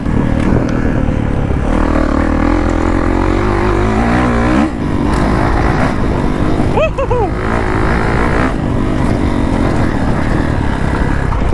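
A motorcycle pops a wheelie over a pond, its engine roaring loud and close throughout, with the revs rising and falling as the throttle works.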